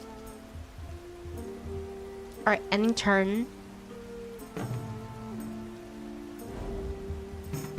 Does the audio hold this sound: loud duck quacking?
no